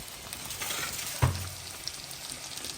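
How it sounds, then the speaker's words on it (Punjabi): Green chilies fry in oil in a pan with a steady soft sizzle, broken by one sharp knock of a spoon against the pan midway. "ਮਿਰਚਾਂ ਵੀ ਫਰਾਈ ਹੋ ਜਾਣਗੀਆਂ"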